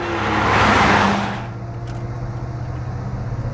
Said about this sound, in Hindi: पुलिस की गाड़ी आ गई